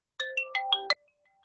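A phone ringtone plays a quick run of five bright electronic notes, clear and close, then cuts off into near silence.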